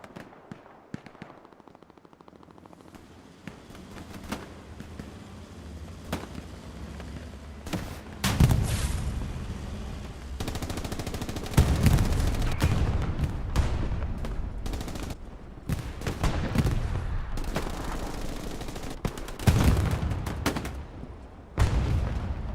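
Self-propelled artillery shelling in the Hell Let Loose game on Omaha Beach, mixed with rattling machine-gun bursts, heavy booming impacts and dense gunfire building from sparse shots into loud sustained battle noise.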